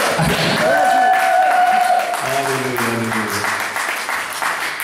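A church congregation applauds loudly, with raised voices cheering and calling out over the dense clapping, which stays strong before easing slightly toward the end.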